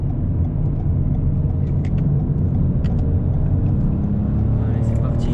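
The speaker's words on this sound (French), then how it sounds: "on va tester un petit peu l'efficacité du véhicule sur l'accélération sur une voie rapide" Toyota Yaris 1.0 VVT-i (2021) small three-cylinder car accelerating on an expressway, a steady loud low engine drone with road rumble throughout, heard from inside the cabin.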